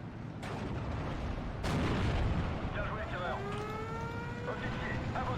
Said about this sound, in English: The Fusiliers trying to use their 100-meter grenades on me.